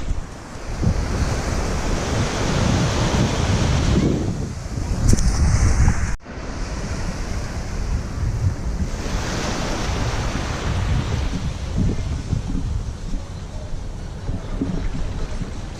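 Surf rolls onto Princess Margaret Beach on Bequia in the Caribbean, a continuous wash of breaking waves heavily mixed with gusty wind buffeting the microphone, loud and close, with one abrupt cut partway through.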